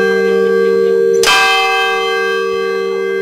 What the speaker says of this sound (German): und hier hängen 5 Glocken